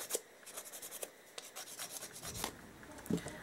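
A nail file rasps against a gel nail while it is shaped, giving a run of short, close scraping strokes with an uneven rhythm and one slightly louder stroke near the end.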